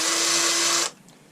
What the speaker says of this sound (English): take that same drill bit and kind of ream that hole out